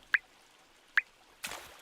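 Water drips and splashes inside a rain-flooded house as buckets bail it out: two sharp, close single drops about a second apart, then a short rushing pour of water, with no voices.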